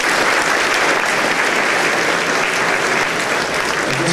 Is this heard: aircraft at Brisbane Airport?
no